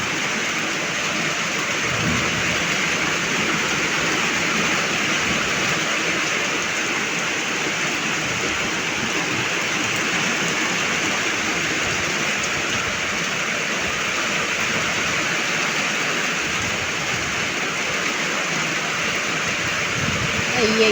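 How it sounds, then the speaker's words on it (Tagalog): Heavy rain pours down steadily on a rural province home, a dense, loud hiss that carries on throughout. "Ay, ang ulan, biglang lumakas, biglang bagsak."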